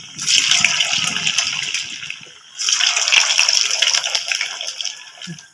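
Sago vada patties made from javvarisi hit hot oil in a pan, setting off a loud bright sizzle that fades, then a second burst of crackling hiss as more batter goes in, with no talking.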